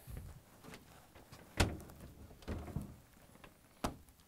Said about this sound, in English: Now we need to close both doors.